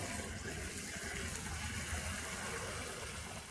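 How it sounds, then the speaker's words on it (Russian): Water pours steadily into a cauldron of Tatar-style pasta over a campfire, a continuous quiet gushing splash with no talk. "Залил воду."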